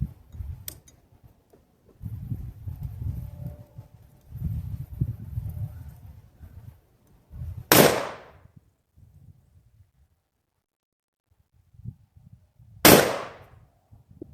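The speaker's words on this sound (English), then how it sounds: "Okay, that was the first 2 shots." A Bear Creek Arsenal 6.8 SPC upper fires two sharp rifle shots about five seconds apart, each a loud crack with a brief decay, between stretches of quiet outdoor shuffling and background noise.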